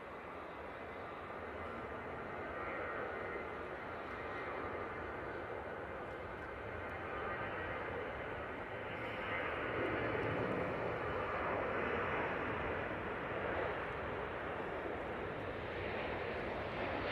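A Hainan Airlines jet taxis at Manchester Airport, its engines making a broad, steady rumbling roar at a moderate distance. The noise swells a little partway through and carries on without voices.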